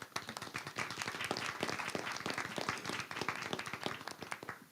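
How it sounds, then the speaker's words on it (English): Audience at a school board meeting applauding guests, a quiet, fairly small crowd clapping steadily with distinct individual claps audible, heard at some distance. "these people deserve truly a round of applause"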